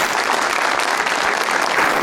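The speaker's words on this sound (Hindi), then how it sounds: "तालियां इस बात की बहुत ज्यादा" A studio audience at a comedy talk show claps in dense, loud, sustained applause with no voices.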